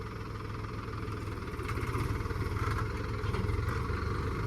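A tractor engine runs steadily while ploughing through large clods of soil, a close, continuous low throbbing with a slight rise in intensity partway through and no voices.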